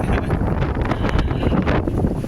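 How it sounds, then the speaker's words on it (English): Wind blowing at Bulabog Beach, Boracay, a loud, continuous rushing buffet across the microphone with irregular gusts and no voices. "Feel the wind, hear the wind."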